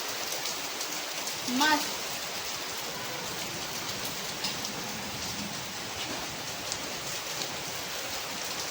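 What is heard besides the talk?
heavy rain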